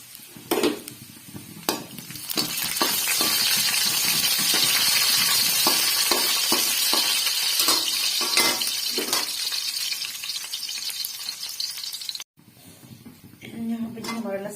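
Garlic sizzles in hot ghee with a loud, steady frying hiss that runs for most of the clip, broken by occasional clinks of stirring. A voice talks over it before the hiss suddenly drops near the end.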